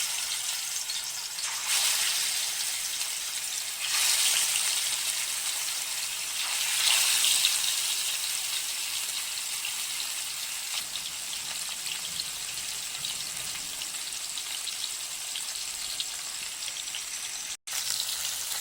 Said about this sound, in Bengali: তেলটা মনে হয় গরম হচ্ছে, আমি মাছগুলো দিয়ে দিই।